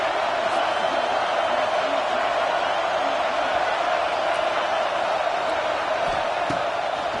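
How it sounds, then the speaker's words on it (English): Steady roar of a packed stadium crowd at an LSU versus Texas A&M college football game, a dense continuous wash of voices and cheering with occasional whoops rising above it, loud and unbroken throughout. "This crowd trying to make life miserable for this offense."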